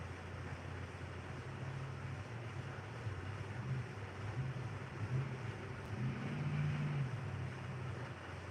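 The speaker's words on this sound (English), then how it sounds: "Somebody's out there racing their engine going down the road." A distant car engine races along a road, a faint low drone rising and falling in pitch beneath steady wind and outdoor noise, swelling briefly toward the end.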